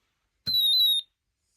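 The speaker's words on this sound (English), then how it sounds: "When I tap the vibration switch, you hear a space war sound coming from the speaker." A Snap Circuits speaker gives one short electronic space war tone, a bright steady whine about half a second long, heard alone in quiet.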